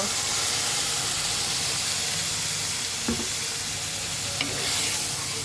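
Mola fish curry with tomato and a little water being stirred in a pan, a continuous loud sizzle and steamy hiss with a couple of soft scraping touches of the spoon.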